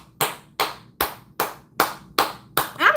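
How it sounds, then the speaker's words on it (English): Seven sharp hand claps ring out at an even, unhurried pace, each a crisp close slap with a short tail, alone without any talk. "I'm going to clap for that"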